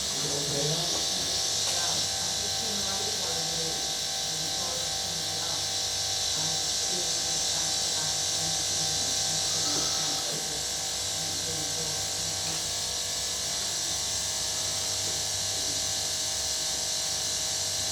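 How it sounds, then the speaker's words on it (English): A relatively small air compressor hums steadily and continuously at close range, a constant buzzing drone that holds level throughout. "it's quite a relatively small compressor"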